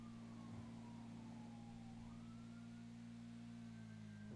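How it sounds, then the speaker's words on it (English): A distant police siren wails with slowly sliding pitch over a steady low motorcycle engine drone, faint and continuous throughout. "That's a siren."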